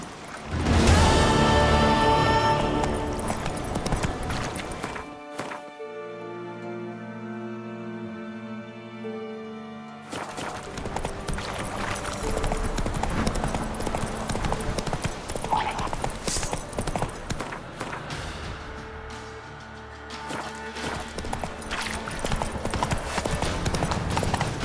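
Hooves of the horse Roach clip-clop in a video game, a steady rhythmic trot lasting throughout, with a brief break in the middle where music-like tones take over, and faint speech at times.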